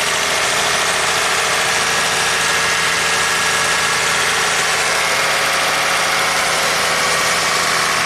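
A 1998 Toyota Camry V6 engine with a misfire idles steadily and loudly, a smooth continuous low hum with a faint rhythmic knock, no voices.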